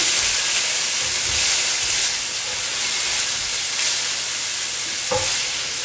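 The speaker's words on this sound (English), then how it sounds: "We're just going to saute them about 5 minutes." Vegetables for chicken fajita nachos sauté in a hot pan, giving a loud, continuous sizzle and steamy hiss up close, broken by a few soft stirring scrapes and one brief clink near the end, with no voices.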